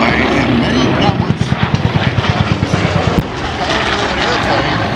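A Goodyear FG-1 warbird propeller airplane at Sun 'n Fun 2012 runs its engine with a rapid, pulsing drone that beats loudly for about two seconds, then fades beneath steady outdoor noise.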